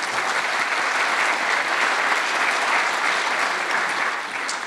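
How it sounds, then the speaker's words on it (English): Conference audience applauding a talk with steady, dense clapping from a large crowd that holds at an even level throughout and eases slightly at the very end. "let's give them all a round of applause"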